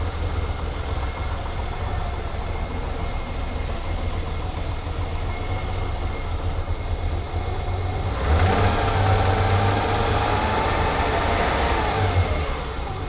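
BMW E21 323i engine idling warm after its cylinders were washed out, a steady low rumble heard close, growing a bit louder and rougher partway through, with no talking.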